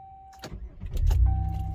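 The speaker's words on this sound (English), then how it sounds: "after all that work under the car with the starter, let's see if she starts." A 2006 Chevrolet Impala LT with a 3.9L engine and a newly replaced starter cranks and fires up, a brief starter whir followed by the engine catching and settling into a loud, steady rumble nearby, with a warning chime sounding around it.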